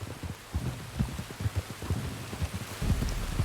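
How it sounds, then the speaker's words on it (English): Rain falls in the video game Red Dead Redemption 2 as a steady hiss, with soft irregular low thuds beneath it; no voices. "You were right about the damn rain."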